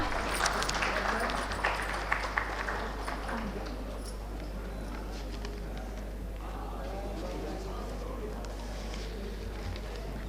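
Audience applause at the RailTrans Expo 2024 summit during Day 1 of the Urban Infra Summit, a steady dense patter of clapping under a constant low hum, with some voices murmuring through it.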